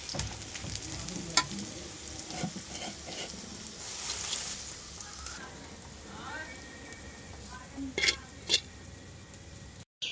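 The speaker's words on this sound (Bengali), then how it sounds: "তেলের মধ্যে নেড়ে চেড়ে সব কিছু ভেজে নিলাম।" Dried fish, green and dried chillies, garlic cloves and chopped onion frying in oil in a wok, a loud crackling sizzle with stirring scrapes and a few sharp pops and clinks of the utensil against the pan.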